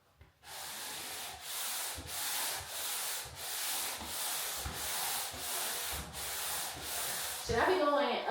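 Painted walls are sanded between coats by hand, about a dozen rhythmic rasping strokes, close and steady, ending in a brief bump.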